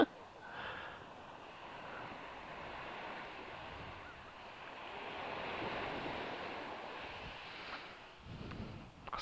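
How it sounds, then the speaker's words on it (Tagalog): Strong surf rolls onto a beach near Vigan City, a broad continuous roar of breaking waves that swells and eases, with wind buffeting the microphone and a brief voice at the end. "Lakas ng alon."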